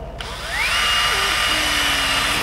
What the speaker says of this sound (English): So I'm gonna drill one hole